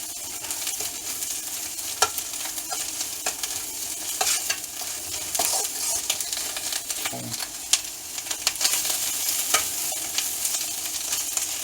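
Vegetables and egg for fried rice crackle in oil while a spatula tosses and scrapes the pan in scattered sharp clicks, all under a continuous close sizzle with no voices.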